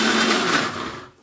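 A kitchen mixer grinder whirs loudly and steadily as it grinds urad dal vada batter, then its motor winds down and fades to near silence at the end.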